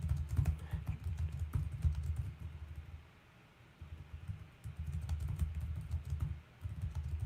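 Rapid keystrokes on a computer keyboard clatter in irregular bursts, close up, with a brief pause in the middle before the typing resumes, and no one talks.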